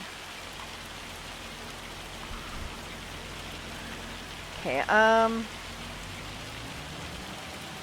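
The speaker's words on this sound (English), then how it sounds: "a little bit of rain ain't gonna hurt you" Rain falls with a steady, even hiss outdoors, continuous throughout, while a voice briefly speaks near the end.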